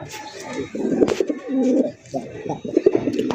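Native Bangladeshi (deshi) pigeons coo loudly and repeatedly in deep, throaty bursts, close by, with brief pauses between calls.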